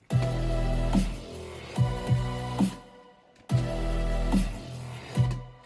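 Synth bass preset played in a full electronic drop, with loud, thick sustained bass notes in rhythmic phrases, a short gap of near-silence midway before the pattern repeats.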